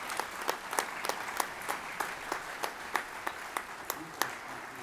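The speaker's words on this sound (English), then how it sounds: "Can we give them a round of applause?" An audience at a segregated-baseball tribute event applauds, a sparse round of scattered claps with distinct individual hand claps standing out, fairly faint and distant.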